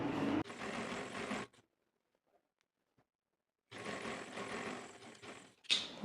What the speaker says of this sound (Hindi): और इसी तरह एक के बाद एक सिलाई लगाते जाएंगे